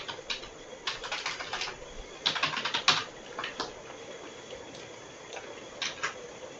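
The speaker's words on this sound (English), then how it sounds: "I'll type it here also" Someone types a prompt on a computer keyboard, with irregular bursts of quick, close key clicks separated by short pauses over a quiet room background and no talking.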